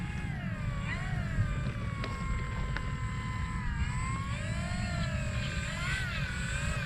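Small propeller airplane taxiing off the runway, a steady droning engine with a whining tone that wavers up and down over a constant low rumble, close and continuous.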